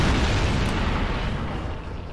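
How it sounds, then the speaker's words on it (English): Particle cannon blasts strike a group of tanks in the strategy game Shockwave, a loud, sustained roaring explosion with broadband rumble that fades slightly toward the end, with no voices over it. "Have you seen what a particle cannon can do to a lot of tanks?"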